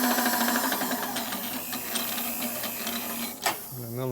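Milling machine cutting a Harley shovelhead motor case during a rebuild, a fast rhythmic whirring chatter with a steady tonal hum, a sharp scrape near the end, fairly quiet and close.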